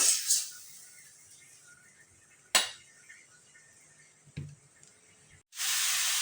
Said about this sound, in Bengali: এখন ভালো করে নাড়াচাড়া করে একটু মশলাটা কষিয়ে নেব আমি।